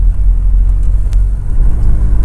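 A Lotus Excel car engine while driving, a loud steady low rumble heard from close by with no talking.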